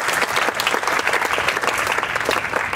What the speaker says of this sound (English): give a mighty clap offering unto Jesus.